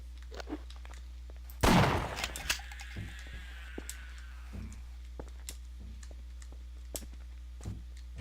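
Gunfire in the video game Half-Life, one loud burst followed by a ringing tail, then sparse light clicks and ticks at irregular intervals.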